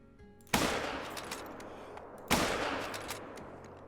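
Two sharp muzzleloader rifle shots ring out in a deer-hunting video game, roughly two seconds apart, each a loud broadband blast trailing into a long echoing decay over faint ambience.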